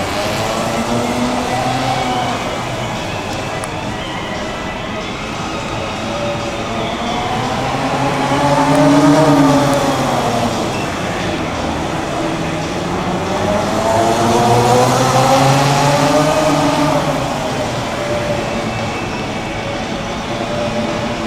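A new CFMOTO Z10 side-by-side revs its engine while driving, rising and falling in pitch in long sweeps over a steady loud drone for about twenty seconds.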